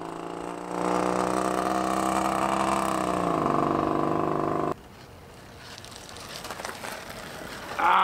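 A Puch Magnum moped engine running rich drones steadily and fairly loud for about four seconds, its pitch sagging slightly before it cuts out abruptly, leaving quieter background noise.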